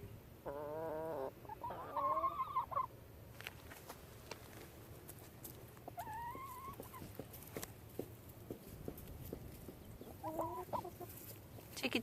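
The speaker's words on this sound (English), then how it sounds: "Chickies." Backyard chickens on a small farm cluck and call in several short bursts, with a rooster-like squawk early on, over steady outdoor background noise and scattered rustling.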